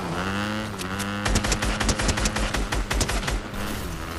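Rapid bursts of automatic gunfire from a weapon in Fortnite, a dense rattling volley of close, loud shots after a brief quieter lead-in, continuing in quick uneven clusters.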